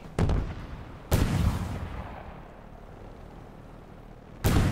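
Heavy gunfire in Halo Infinite on Legendary difficulty: three loud, sharp bursts of shots, each with a booming tail and a long rumbling decay, the last cutting in at the very end.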